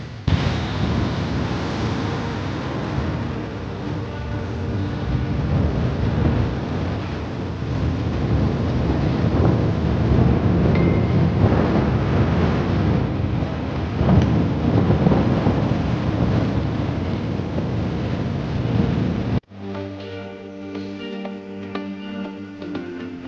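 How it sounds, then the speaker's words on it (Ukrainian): Ocean waves rolling onto a beach on Boracay, a broad, continuous roar of surf with swelling and easing loudness, then cutting abruptly to a quieter, different passage near the end. "Ніякого зайвого шуму, жодної музики, тільки океан і шум хвиль."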